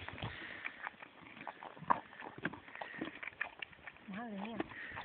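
A horse from El Pedroso clip-clops along with steady hoof strikes while people talk over it, and a brief vocal whoop sounds near the end.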